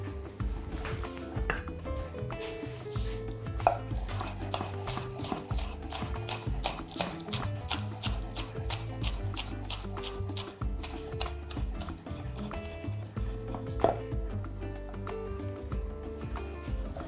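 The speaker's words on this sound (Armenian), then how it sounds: "Երեք փետուր կանաչ սոխ ենք մանրացնում" Green onion stalks are chopped with a knife in a quick, steady run of close, crisp strikes that thin out near the end. Faint background sounds sit underneath.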